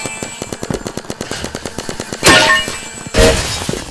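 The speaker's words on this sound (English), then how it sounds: "Airstrike." Airstrike explosions from a Roblox Big Paintball match come as two loud, broadband blasts late in the clip, following a run of rapid, clicky gunfire-like shots and clanks.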